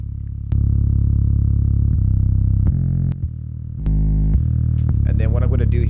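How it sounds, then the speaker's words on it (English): Heavy synthesized bass notes of a beat treated with Camel Crusher British Clean preset saturation and distortion, sustained booming tones shifting pitch every second or so, ending in a brief burst of brighter sounds. "There's some saturation added to it, like a little bit of distortion to bring it out a little bit."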